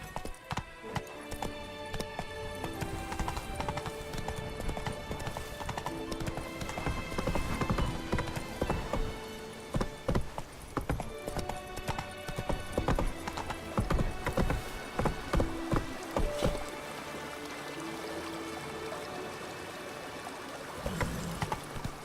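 A horse gallops in The Witcher 3 with rapid, rhythmic clip-clop hoofbeats that carry on steadily over layered game music and ambience, with a short whinny-like accent and a quieter stretch near the end.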